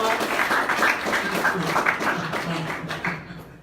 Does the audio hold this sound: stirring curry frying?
no